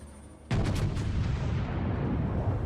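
Heavy naval guns boom out from a battleship in World of Warships, a loud sudden blast followed by a long rumbling roar and echoing decay, with no talking.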